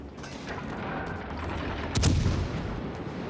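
Incoming shells and naval gunfire in the World of Warships Legends video game, a continuous rumbling battle bed with one loud boom of impact near the end.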